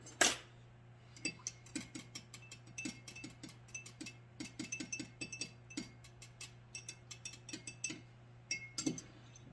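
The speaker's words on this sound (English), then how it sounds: "We're just gonna stir her in there." Dye drops being stirred into liquid lure plastic, a quick spoon-against-container clatter and then a long run of small, irregular clinks and taps, close and fairly quiet over a steady low hum.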